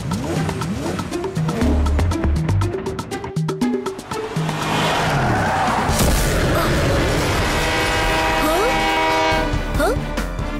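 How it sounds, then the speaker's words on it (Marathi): An animated train rushes past with a loud horn blast and steady clattering wheels, layered under energetic cartoon music, with the noise sustained and close throughout. "अरे, ही ट्रेन थांबली का नाही?"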